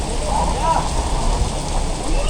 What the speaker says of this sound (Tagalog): biglang lakas ng ulan, no? Ang lakas.